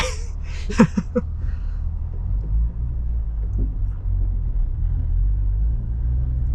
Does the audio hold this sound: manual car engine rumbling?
yes